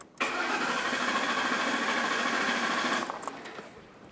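An engine cranks over during a compression test, one steady buzzing, whirring starter run of about three seconds that stops abruptly and trails off into faint clatter, close and loud with no speech.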